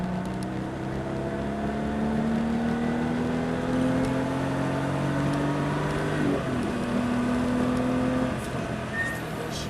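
Small, modestly powered car's engine revving and pulling under acceleration from inside the cabin, rising harmonic drone climbing steadily then briefly dropping as the driver shifts, continuous and close with no talk.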